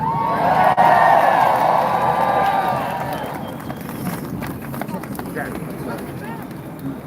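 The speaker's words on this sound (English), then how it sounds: "please welcome him and give him a round of applause" A crowd at a Pennsylvania protest rally cheers and whoops loudly, then settles into sustained clapping that carries on after the shouts fade.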